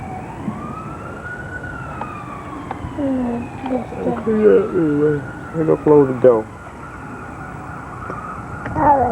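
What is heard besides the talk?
ambulance siren passing nearby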